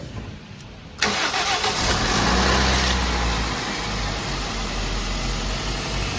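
An engine is started: after a second of low background there is a sudden loud catch, and it settles into a steady, rumbling idle that continues to the end.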